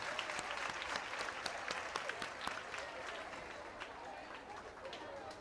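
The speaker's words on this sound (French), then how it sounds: "Applaudissez Cils Peinture, s'il vous plaît." Audience applause at an award ceremony, a rather faint, steady patter of clapping hands with a few sharper nearby claps standing out, slowly thinning toward the end.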